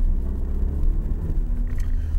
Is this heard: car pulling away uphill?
yes